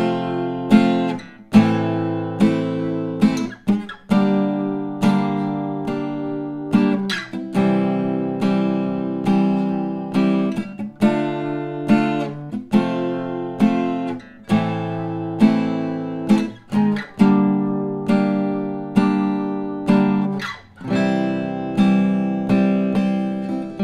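Acoustic guitar strumming the chords of a song, a steady rhythmic pattern of full chord strums with short pauses, played alone and close up.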